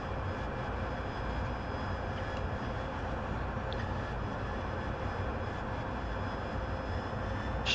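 An AV-8B Harrier jet in a flight simulator game gives a steady, loud, continuous engine roar with a faint high whine, unchanging throughout and with no talk.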